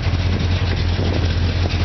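A truck engine runs steadily with an exhaust leak under the hood, giving a loud, close, continuous drone with a deep throbbing hum and no breaks.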